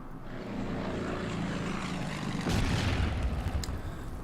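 A bomber's droning engine roars steadily in the Order of Battle: Panzerkrieg war game, loud and continuous, with a heavier low swell and thud partway through suggesting an attack.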